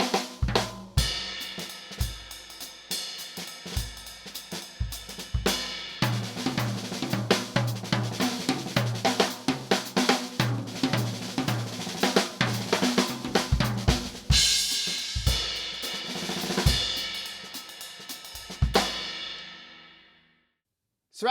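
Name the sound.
drum kit playing six stroke roll phrase on 2 and 4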